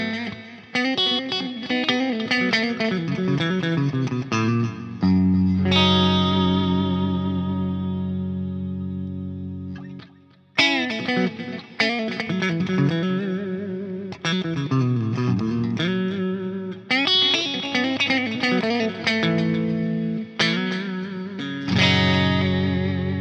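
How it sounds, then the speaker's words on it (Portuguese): A Carrozza Scarlett electric guitar on its middle pickup position, both pickups together, playing distorted, effect-laden riffs and chords with sustained ringing notes between phrases. "Agora vamos para a posição do meio dos captadores, ok? Usando os dois ao mesmo tempo. Dá um som um pouco mais de Stratocaster, né?"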